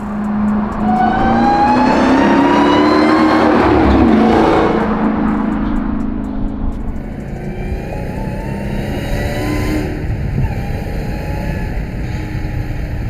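An 850-horsepower manual widebody Dodge Hellcat Charger drives and accelerates, its loud engine roar rising through the gears and then settling into a steadier cruising drone, with no talking.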